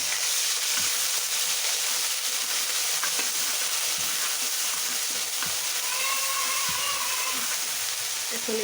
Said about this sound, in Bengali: রসুন বাটাটা দিয়ে দিচ্ছি। একটু ভেজে নেব